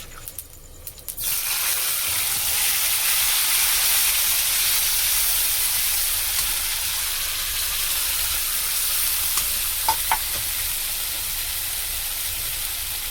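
A paste of onion, ginger, garlic and tomato drops into hot oil with bay leaf and whole cumin, bursting into a loud, steady sizzle after a brief quieter start, with a couple of faint clinks near the end.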